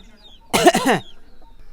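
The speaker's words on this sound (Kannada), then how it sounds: "ನೋಡ ಕೆಮ್ಮಿ ನೋಡ" A single harsh cough burst, close and loud, in a quiet room, followed by a short pause and the start of another sound.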